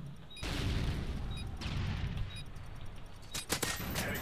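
Rapid automatic gunfire from a video game rifle, a dense rattling burst that runs through most of the stretch with sharper single cracks near the end, loud and busy with no talk over it.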